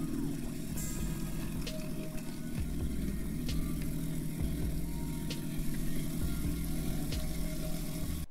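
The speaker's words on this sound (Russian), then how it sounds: "Слышно, как врубил двигатель, чтобы шла вибрация на воду и была имитация интенсивности." A steady low moped engine hum, close and constant, with faint clicks and rattles over the drone throughout.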